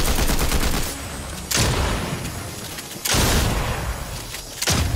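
Three bursts of rapid gunfire from the video game Fortnite, each a loud, dense volley of shots that fades before the next one starts, with no talk over them.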